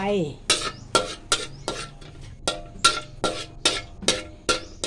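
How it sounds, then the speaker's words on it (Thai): A utensil scrapes and taps rhythmically against a pan, about ten regular strokes, with a faint sizzle underneath, as minced garlic is stir-fried. "ตั้งกระทะใส่กระเทียมสับ เปิดไฟ"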